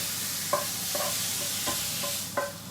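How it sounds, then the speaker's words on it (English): Pork pieces searing in a hot pan give a steady broad sizzle, broken by several short scraping stirs at irregular intervals, close and fairly loud with no talking. "the next lot, it's not going to take long to sear off"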